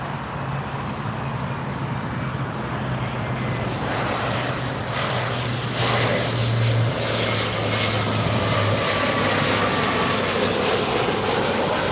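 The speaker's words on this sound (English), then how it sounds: "This is Air Tahiti Nui's Flight 7, a Boeing 787-9 Dreamliner headed to Papeete." An Air Tahiti Nui Boeing 787-9 Dreamliner at LAX, a loud steady jet engine roar with a broad rushing wash and a low hum swelling slightly midway, heard from nearby on the airfield.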